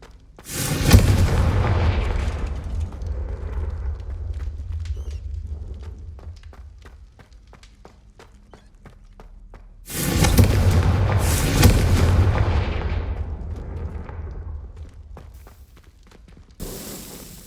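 Confringo blasting spell explosions in Hogwarts Legacy, two big booming blasts about nine seconds apart, each rumbling away over several seconds, followed by a sharper third burst near the end.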